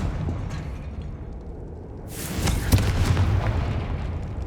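A Confringo blast spell in Hogwarts Legacy sets off a sudden loud boom partway through, after a quieter stretch, then leaves a rumbling crackle that slowly fades.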